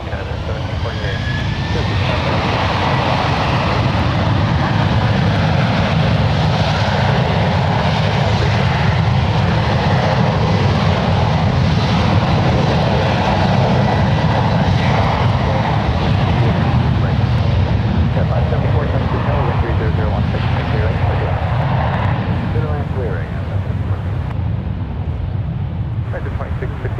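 A United Airlines jet taking off from runway 1 left at San Francisco International Airport, a loud, sustained engine roar over a deep rumble, with air traffic radio voices heard over it.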